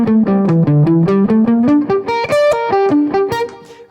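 Distorted electric guitar, gain backed off slightly, plays a fast G Dorian shred lick using economy and sweep picking, a rapid run of firmly picked notes climbing and falling in pitch, loud and close with no talking.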